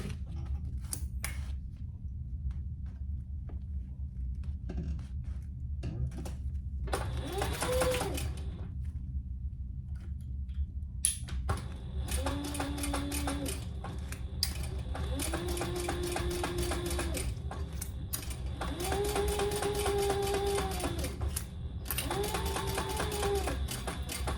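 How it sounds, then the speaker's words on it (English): A sewing machine top stitches a travel jewelry case in steady bursts of rapid mechanical whirring, pausing between runs, with a faint voice now and then. "let's top stitch it and then we're gonna be done"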